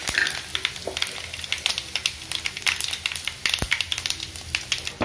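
Mustard seeds, cumin and dried red chillies sizzle and crackle in hot oil for a tempering, a dense close spatter with frequent sharp pops, no talking.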